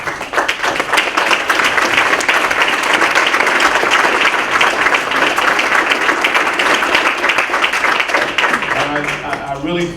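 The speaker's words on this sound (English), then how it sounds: "Next, I'd like to give a round of applause to our candidates." Sustained applause from an audience at a candidates forum, a loud dense clatter of many hands clapping that holds steady, then thins out near the end as a voice starts to speak.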